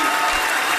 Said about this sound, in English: No, don't applaud.